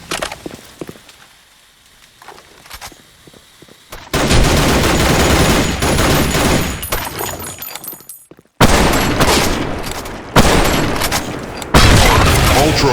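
Gunfire in the shooter game Blackshot on the Sandstorm map: several loud bursts of automatic fire come at close range, split by brief pauses, with quieter footsteps and game sounds between them.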